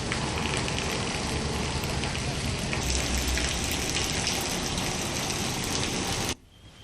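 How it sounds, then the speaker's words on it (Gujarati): Heavy unseasonal rain pours in the Barwala area of Gujarat, a dense, steady roar of falling water and gusting wind that cuts off abruptly near the end; no distinct thunder clap stands out. "બરવાળા પંથકમાં અતિ ભારે પવન અને ગાજવીજ સાથે વરસાદ ખાબક્યો"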